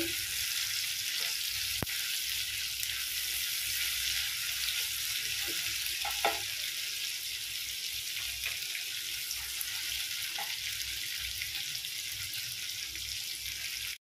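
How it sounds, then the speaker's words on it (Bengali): Ginger paste frying in a pan over a medium flame for a vegetarian pointed gourd and moong dal dish, a steady close hiss and sizzle with a few faint scraping stirs and no voices. "চুলার আঁচটি মিডিয়ামে রেখে রান্না করছি।"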